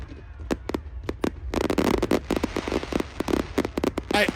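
Fireworks show at Burning Man in the desert, heard as a rapid series of sharp bangs and crackling bursts, loud and close, with a dense cluster in the middle and a crowd murmuring underneath.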